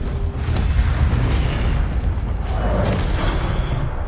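An Incendio fire spell goes off in the video game Hogwarts Legacy, a loud booming blast with a rumbling, crackling tail that fills the moment with no talking.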